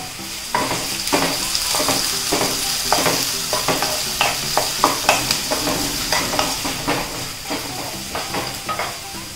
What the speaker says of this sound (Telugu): ఉల్లిపాయలు, పచ్చిమిరపకాయలు, కరివేపాకు కూడా వేసేసి వేపుతున్నానండి.